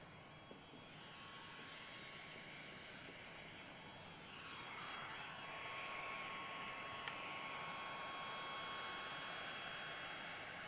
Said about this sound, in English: heat guns up all the way on high